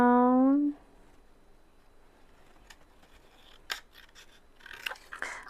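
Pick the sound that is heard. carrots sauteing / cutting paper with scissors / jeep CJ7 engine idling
cutting paper with scissors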